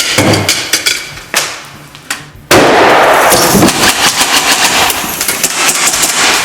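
An airsoft grenade goes off during close-quarters corner clearing, a sharp burst at mid-clip followed by a dense, sustained crackle of rapid popping and overlapping shots that stays loud to the end.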